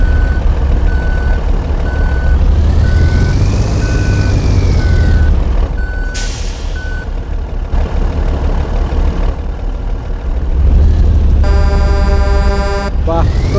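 A big rig in the mobile game Truck Simulator Pro USA drones with a deep engine rumble, while a loud, rapid reversing-beep pattern and other synthetic alert tones sound over it.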